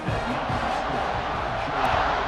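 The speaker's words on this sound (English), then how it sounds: "Crowd starting to cheer" Stadium crowd in a College Football 26 game, Tennessee versus Georgia, roars in a steady, swelling wash of cheering that builds slightly toward the end.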